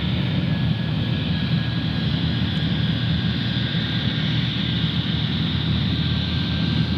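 An airliner landing on runway 14 right at Boeing Field produces a loud, continuous engine roar with a thin steady whine riding on top, holding evenly throughout.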